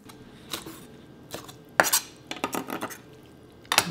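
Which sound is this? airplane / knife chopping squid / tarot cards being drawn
knife chopping squid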